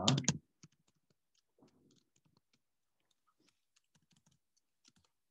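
Fingers type on a computer keyboard in soft, scattered clicks of short keystroke bursts, close and quiet, after a brief louder thump at the start.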